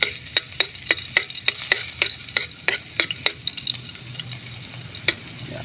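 Ginger frying in hot cooking oil at an outdoor cooking spot, a steady sizzle broken by sharp, regular clicks of a spatula stirring the pan, close and moderately loud with no talking.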